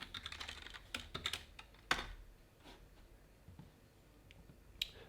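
Fingers type a password on a computer keyboard: a short, close run of light key clicks, quick at first, then sparse taps with pauses between them.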